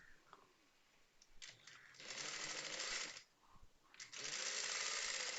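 A sewing machine stitches the shoulder seam of a petticoat in two quick, close bursts of rapid mechanical whirring with a short pause between them.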